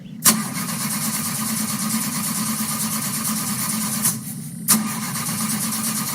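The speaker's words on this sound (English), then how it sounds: "This car has very low miles and starts up perfectly. Take a listen." Low-mileage Honda pickup truck engine cranking and catching, then settling into a steady, loud idle with a brief second engine blip near the end, heard alone without talk.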